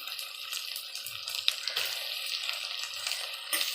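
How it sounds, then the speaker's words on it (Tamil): Two tomatoes tossed onto softened onions frying in a pan give a quiet, steady sizzle with faint stirring scrapes and soft low knocks, continuous and fairly even throughout. "அதுக்கப்புறம் நம்ம தக்காளி சேர்த்துக்கலாம்"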